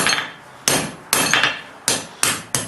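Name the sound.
hammer forging hot steel on an anvil for tongs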